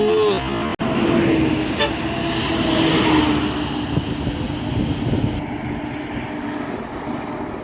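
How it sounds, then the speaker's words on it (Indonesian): A tour bus followed by an NPM bus passes along a road, a loud near roar of heavy engines and tyres with a brief horn tone, fading slightly as the vehicles move on; a voice talks over it. "Pukul 1 siang ada bus pariwisata yang di belakangnya ada bus NPM ya."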